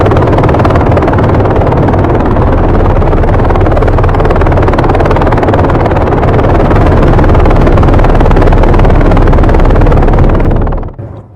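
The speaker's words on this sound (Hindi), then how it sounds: "मादुरो को देखिए हेलीकॉप्टर से उतारा गया" Loud, sustained rotor and engine roar of a helicopter landing to unload a passenger under heavy security, a dense continuous drone with rapid beating texture that cuts off abruptly near the end.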